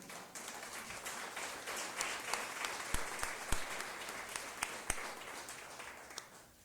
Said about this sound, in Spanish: Dale ese aplauso al Rey